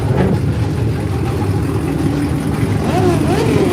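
A car engine revs at a Coffee & Cars meet at COTA, a steady low rumble with a rising rev near the end, heard from some distance amid crowd noise.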